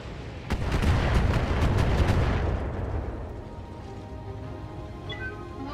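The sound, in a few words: missile impacts on a mech in BattleTech video game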